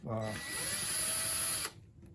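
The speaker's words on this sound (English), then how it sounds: "my ratchet on setting number 1 for this. I do not want to strip out the screw" Power ratchet on its lowest setting driving a screw into wood on a Welte player piano repair, a brief steady whirring buzz lasting under two seconds before cutting off.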